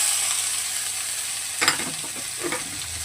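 Ash gourd sizzling in hot tempering spices in a pan, a steady frying hiss broken by a couple of scraping stirs near the end, with no voices.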